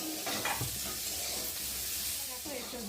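Potatoes fry in a hot pan with a steady, close sizzle and hiss throughout, broken by occasional stirring scrapes and light utensil clatter.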